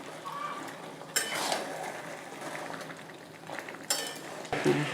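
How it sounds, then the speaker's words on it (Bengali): Potatoes tipped into a pot of simmering desi chicken curry, with clattering pot and utensil knocks, a couple of sharper clanks near the start and end, and soft stirring scrapes between. "আলুগুলো দিয়ে দিই, কারণ আলু মাংস সব একসঙ্গেই সেদ্ধ হয়ে যাবে।"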